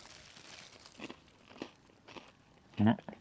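Biting into a small crispy almond croissant-style pastry with caramelized almond pieces, giving soft crackly crunches with one loud bite near the end, close up.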